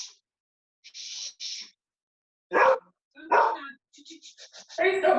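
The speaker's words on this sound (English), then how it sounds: "Whose dog's joining in?" A dog barks indoors in short separate bursts with quiet gaps, ending in a quick run of yips and a louder final bark.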